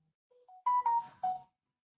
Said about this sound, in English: there's the notifications going out